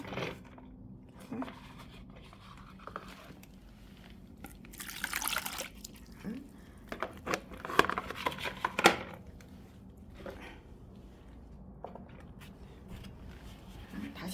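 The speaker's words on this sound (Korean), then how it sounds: "물바지에 고인 물을 다시 뺄게요" Water collected in the saucer under a pot of repotted crab cactus is drained off, splashing and trickling in short bursts with a louder gush in the middle, while a person talks.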